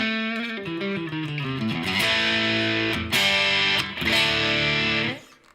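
Electric guitar with overdriven, gritty tone, playing a run of sustained chords with a few sharp strums, then ringing out and fading.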